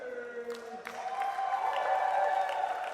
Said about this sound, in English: the Southeast Asia Surge here getting the biggest round of applause from the crowd